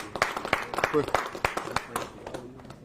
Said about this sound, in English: Give Bakari a round of applause.